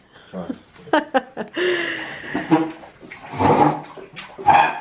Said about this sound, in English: He's so excited for dinner that he's blowing bubbles.